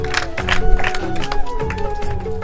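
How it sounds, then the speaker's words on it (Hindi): An audience claps for a student at a school exam-results and award gathering, producing dense, steady clapping with crowd voices and chatter mixed throughout. "जोरदार तालियां इसके लिए बजाएंगे बाबू, जोरदार तालियां"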